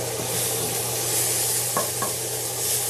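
Bacon sizzles in a pan beside onions in a steady, close frying hiss with a couple of faint clicks near the end and no voices.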